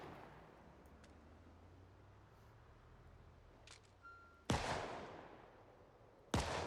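Two sharp, loud gunshots in Project Zomboid ring out seconds apart over a low background hum, each with a brief echoing tail.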